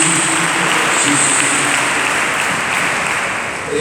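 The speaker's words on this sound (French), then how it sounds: "applaudissez Frère" A dense, continuous roar of applause for a speaker, uniform and sustained without pauses, filling the room at steady loudness.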